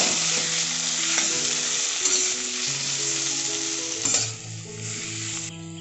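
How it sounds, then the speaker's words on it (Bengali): Mashed jackfruit seeds are stirred and fried with spices in a pan for a vegetarian dal, giving a steady close sizzle with scraping spoon strokes and a heavier clatter near the end. "এবার এর মধ্যে আমি ম্যাশ করে রাখা কাঁঠালের বিচিগুলো দিয়ে দিচ্ছি মশলাটার সাথে খুব ভালোভাবে মিক্স করে একটু কষিয়ে নেব"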